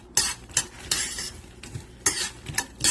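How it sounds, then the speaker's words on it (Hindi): Makhana (fox nuts) roasting in a little ghee until crisp, with a spoon scraping and stirring against the pan in several sharp, close bursts and softer shuffling between them. No one speaks. "अब ये जरा से घी में मैं इनको भून दूंगी, थोड़ा सा क्रिस्पी कर लूंगी"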